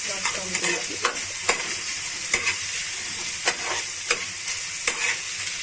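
Food frying in a pan and being tossed to turn translucent and half cooked, a steady sizzle broken by repeated sharp scraping stirs and clinks at a loose, uneven rhythm, close and fairly quiet, with no voices.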